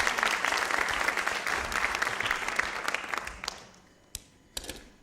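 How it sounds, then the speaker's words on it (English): An audience claps in sustained applause that gradually fades out, leaving a few last scattered claps at the end. "Round of applause, ladies and gentlemen."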